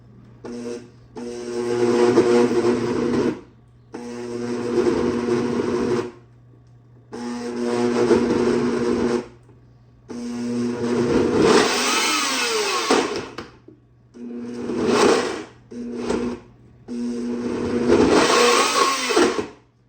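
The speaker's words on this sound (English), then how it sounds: "So let's blend this up." A kitchen blender whirs in repeated loud bursts, processing a thick date and almond butter mixture with almond flour for vegan Twix bars, the motor starting and stopping several times with short pauses between runs.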